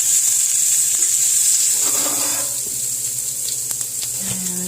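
A hot pan sizzles and hisses steadily while keto casserole ingredients fry, a bright constant crackle close by with brief clinks and a scrape of stirring near the end.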